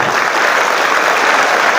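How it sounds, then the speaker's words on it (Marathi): A crowd applauds at a school retirement function for a teacher: dense, continuous clapping that stays loud and even throughout, with no voices. "आता टाळ्या वाजवतात, आता टाळ्या वाजवतात."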